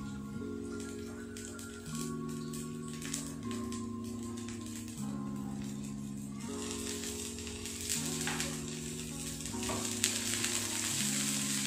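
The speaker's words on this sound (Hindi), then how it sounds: "देखिए हमारा प्याज और हरी मिर्च अच्छी तरह से भुना गया है" Onion and green chili fry with a gentle, continuous sizzle and occasional stirring scrapes, heard under a looping background music tune.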